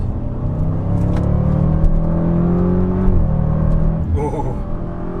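Tuned Audi RS6 Avant revving in manual mode toward 3,500 RPM, a loud steady engine drone with rising harmonic tones that climb and hold, then drop off near the end as a brief higher whine cuts in.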